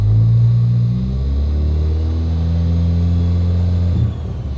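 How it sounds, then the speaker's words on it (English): A Microsquirt-controlled car engine revs up from idle, its low rumbling tone climbing and holding at higher RPM before dropping back sharply near the end, loud and close with no talking. "So when I rev the car up"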